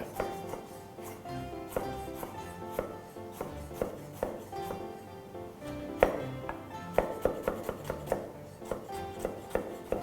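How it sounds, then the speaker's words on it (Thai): A knife chops young ginger into strips on a cutting board, steady quick irregular taps repeating throughout with no talking. "แล้วก็หั่นให้เป็นเส้นๆนะครับ"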